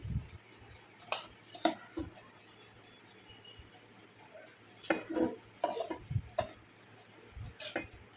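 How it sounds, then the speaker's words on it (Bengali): Rice being served onto a plate with utensils at home, a series of close, sharp scrapes and clinks from a spoon against the plate and pot, irregularly spaced, with quiet gaps between. "এবার আমি ভাতটা বেড়ে নিচ্ছি।"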